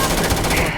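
Rapid automatic gunfire in the video game Starfield, a loud, dense burst of shots lasting under a second and filling the foreground.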